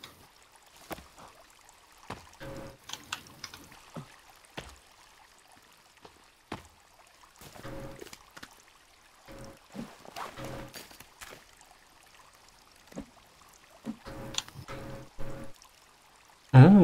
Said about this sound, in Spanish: Sigo teniendo que beberme el agua pocha